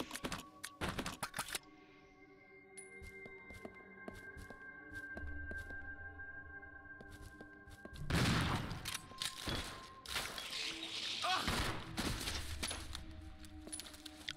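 Heavy shotgun blasts boom in the Resident Evil 0 video game: a cluster of loud shots at the start, quieter tonal game ambience, then a dense stretch of firing and impacts toward the end.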